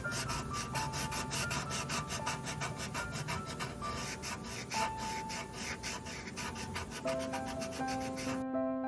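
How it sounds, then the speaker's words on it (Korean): Colored pencil scratching on paper, a close, steady rhythmic rasp of quick repeated strokes running continuously until it stops just before the end, with no speech. "연필이 지면에 닿는 소리는 어떠한지"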